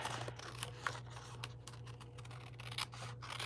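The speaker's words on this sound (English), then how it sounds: "then we will do the world's easiest fussy cut" Scissors fussy cutting patterned paper for a card, a string of soft scattered snips and scratchy rubs, close and quiet over a steady low hum with no talk.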